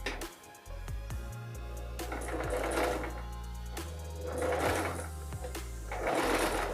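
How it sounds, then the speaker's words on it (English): A sewing machine stitches two pieces of elastic together while jeans are being altered, running in several close, steady bursts of rapid mechanical whirring with short pauses between them. "we're gonna go back and stitch the two elastics together."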